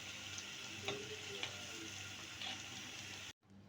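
Spicy rice flour pitha fry in hot oil with a steady, hissing sizzle and a few soft clinks of a utensil turning them, then the sound drops out abruptly near the end.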